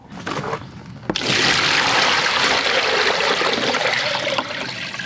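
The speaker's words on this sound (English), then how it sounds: "Now the next step is we need to fill this container with water." Water pours into a container being filled for a yellowjacket wasp trap: a soft start, then after a second a loud, steady close splashing gush that runs on without talk.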